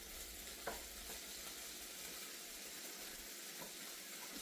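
Pork belly frying in a pan, a steady low sizzle with faint stirring and scraping sounds, alone without talk.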